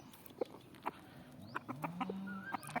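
A fighting rooster clucking nearby, several short, distinct clucks and calls spaced irregularly over a quiet background.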